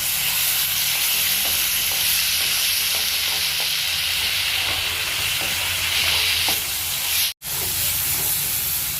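Masala frying in a pan for a vetki fish curry, a dense close hiss of sizzling oil with faint scraping stirs, cutting off abruptly for an instant near the end, no voices.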